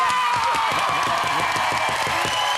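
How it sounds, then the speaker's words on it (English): A television studio audience claps and cheers steadily and loudly for a hero at the Pride of Britain Awards, with continuous applause and scattered whoops. "Come on, give him a big cheer."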